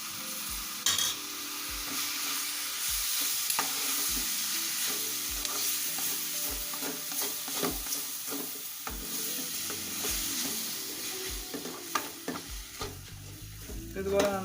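Beef boti fry being stirred in a pan: a constant sizzle broken by repeated spoon scrapes and knocks against the pan at a roughly regular pace, heard close, with background music.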